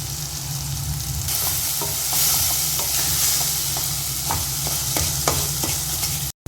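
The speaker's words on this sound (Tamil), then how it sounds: "இப்போ வெங்காயம், தக்காளி, இஞ்சி எல்லாமே வதங்கும் போதே இப்போ உப்பு, அதுக்கு தேவையான அளவு உப்பு போட்டுக்கலாம்." Onion, tomato and ginger sauté in a hot pan for a Chettinad-style ginger dish, a continuous loud sizzle broken by repeated scraping strokes as a spoon stirs the mixture, with no talking.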